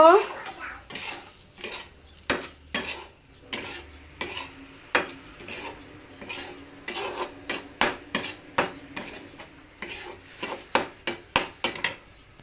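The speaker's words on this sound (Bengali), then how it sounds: "এখন এটাকে অল্প ভেজে নেব।" Semolina being stirred and fried in a pan, with rhythmic sharp clinks and scrapes of a metal spoon against the pan and a faint sizzle beneath, close and without talk.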